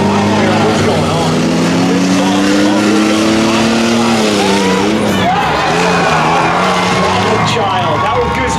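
A car charges at full throttle toward a ramp at a car-wars ramp competition, its loud engine note climbing steadily and then breaking up near the middle, with crowd noise and voices around it.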